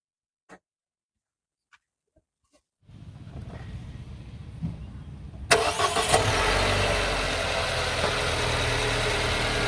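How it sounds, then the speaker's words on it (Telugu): After a few faint clicks, the engine of a 2023 MG Astor petrol car with 2,800 km cranks, catches, and settles into a loud, steady idle close by. "మా వాడు స్టార్ట్ చేస్తాడు, ఒకసారి ఇంజిన్ సౌండ్ కూడా చూడండి ఒకసారి"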